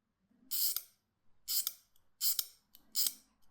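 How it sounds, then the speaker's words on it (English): Fresh hobby knife blade carving and chipping away at a plastic part of a 1/24 Hasegawa Nissan Skyline R31 GT-S model kit, heard as four crisp, close scraping strokes separated by short silences. "start slowly chipping away till it's the right size"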